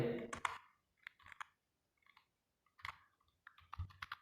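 Quiet bursts of keystrokes on a computer keyboard while Python code is typed, clustered clicks with short pauses between them and no talking.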